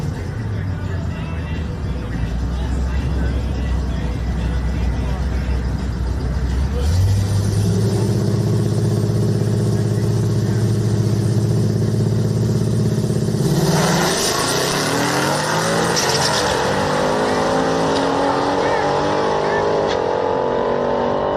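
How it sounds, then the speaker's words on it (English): Mustang GT and Corvette launching side by side at a drag strip, engines idling low before roaring up hard, then a second loud surge of rising revs and gear changes close by, with voices talking underneath. "Mustang GT taking on the Corvette"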